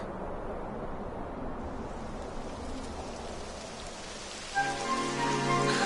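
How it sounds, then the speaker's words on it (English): Rain falls steadily in a fantasy role-playing video game, a soft even hiss of drops on surfaces, with a brighter tonal layer of game sound rising near the end. "Typical. It would have to go and start raining, wouldn't it?"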